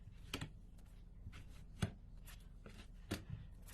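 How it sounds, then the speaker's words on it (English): Tarot cards are spread out across a surface: a handful of soft slaps and sliding card sounds, close by, with short pauses between them. "I'm going to go ahead and spread out my cards here"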